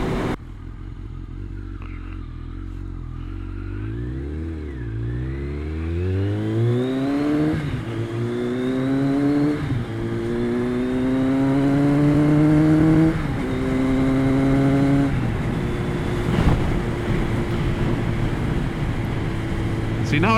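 A 1999 Kawasaki ZRX1100 that runs poorly after storage rumbles along at low revs, its engine note rising and falling through repeated gentle accelerations and gear changes, steady and close throughout.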